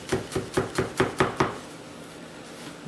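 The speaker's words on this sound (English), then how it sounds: "Make an initial cut like that" A knife chops through chicken breast on a cutting board in seven quick, evenly spaced strokes, each a sharp close thud, then the cutting stops and the room goes quiet.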